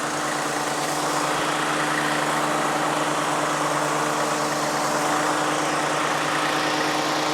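A Toro TimeMaster walk-behind lawn mower engine runs close and loud, holding a steady, unbroken drone under load while cutting grass, with no voices over it.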